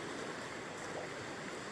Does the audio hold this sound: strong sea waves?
yes